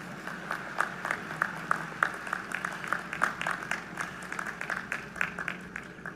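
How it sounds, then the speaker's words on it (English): A crowd at a university commencement ceremony applauds steadily, scattered hand claps blending into a continuous wash of clapping heard from a distance. "You can clap"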